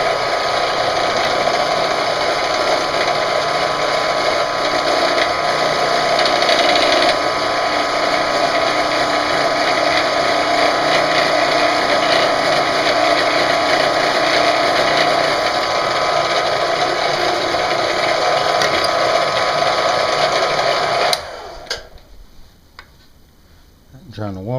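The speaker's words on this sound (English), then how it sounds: "This is the last one I got to drill" A power drill runs steadily while boring holes during an ATV camper build, a continuous close mechanical whir and rattle for about twenty seconds before it cuts off, followed by a brief quieter stretch.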